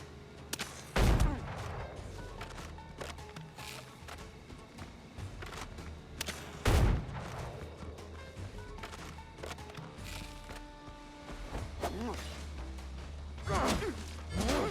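Heavy cannon blasts in the pirate video game Windrose: three separate loud, booming shots spaced several seconds apart, each with a sharp attack and a rumbling tail over a steady bed of game sound.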